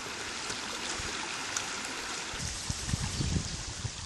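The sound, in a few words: stream of flowing water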